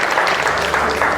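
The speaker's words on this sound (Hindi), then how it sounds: "वाह वाह, क्या जबरदस्त तालियां होनी चाहिए इनके लिए।" A studio audience on a TV entertainment show breaks into a short, loud burst of dense clapping, many hands together in a brief, continuous wash.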